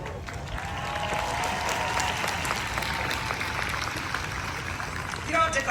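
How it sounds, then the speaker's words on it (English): A graduation ceremony audience applauds in a steady, dense wash of clapping that continues throughout, with a brief louder swell at the end. "You don't have to clap for that"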